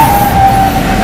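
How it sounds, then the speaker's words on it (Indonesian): A steady electronic tone from a motorcycle's turn-signal reminder buzzer, set off by the throttle, sounds loud and continuous as a single held pitch over engine noise, with no talk. "Semudah itu gas membuat sen motor bisa berbunyi"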